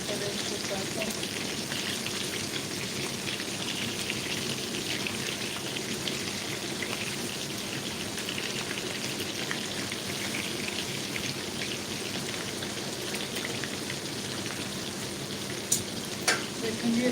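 Food frying in a pan, turned partway through, makes a continuous dense sizzle like heavy rain, steady and close from start to finish, with a couple of brief knocks near the end.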